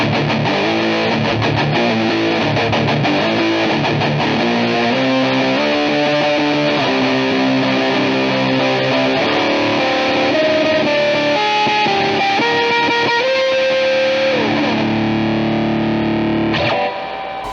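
Electric guitar through a Behringer Ultra Metal UM300 distortion pedal, playing a continuous looped riff of heavily distorted, sustained notes and chords that climb in pitch, loud and steady throughout before stopping abruptly at the end.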